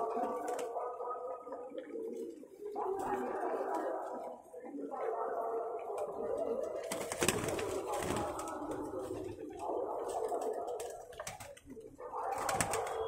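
A flock of pigeons feeding together, with soft gurgling coos rising and falling close by over a steady background, while a person talks intermittently.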